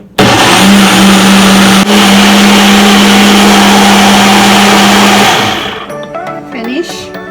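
A blender purées hot black beans for Haitian sauce pois, a loud, close, steady motor whir with grinding churn that runs for about five seconds before winding down and stopping.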